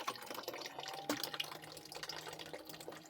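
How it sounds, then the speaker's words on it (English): Close, steady trickling and light dripping of water inside a Lego water-cooling fan, with a faint mechanical hum underneath. "you can hear the water just slowly like falling down"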